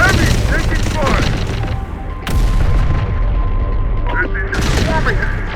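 Heavy gunfire in Terminator: Dark Fate - Defiance keeps up as a continuous loud barrage with booming impacts, with sudden sharp bursts around the middle and near the end and some shouted voices mixed in.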